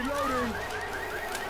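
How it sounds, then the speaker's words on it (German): A car alarm in the zombie game Left 4 Dead 2 wails in repeating rising tones, moderately loud under a person talking. "Jetzt schon dreimal die scheiß Alarmanlage"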